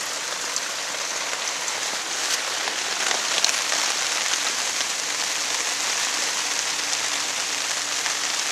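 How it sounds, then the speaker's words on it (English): Steady, dense storm rain pattering on surfaces all around, a continuous even hiss with no voices. "Still raining, but not pouring like it was before."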